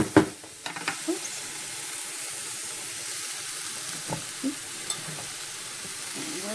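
Cabbage and mushrooms stir-fry for cauliflower fried rice, giving a steady close sizzle with occasional clacks and scrapes of a spoon against the pan.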